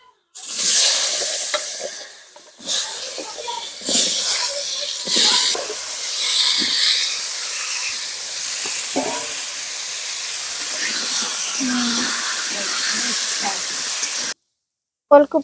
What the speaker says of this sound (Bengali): লবণ হলুদ দিয়ে ওলকপিগুলোও ভেজে নেবো